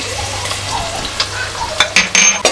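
Onion and curry leaves frying in a pan for an egg dum biriyani, a steady close sizzle with a spoon stirring and scraping the pan in several sharp strokes toward the end.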